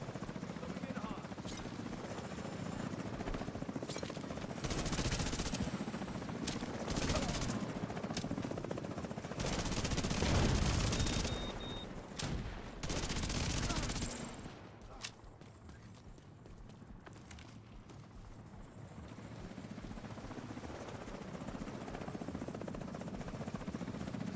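A helicopter in a video game, its rotor thumping steadily and swelling louder midway before easing back to a quieter, constant drone.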